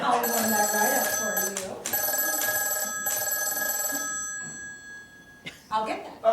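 Telephone bell ringing in an improvised stage show, repeated ring bursts with voices talking over and between them.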